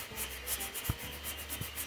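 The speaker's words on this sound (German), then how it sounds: "Vielleicht kannst du sogar hören, wenn ich hier über meine Haut streiche." Fingers stroke across dry, powdered facial skin, a soft close scratchy rubbing with a few brief louder strokes, alone and without talk.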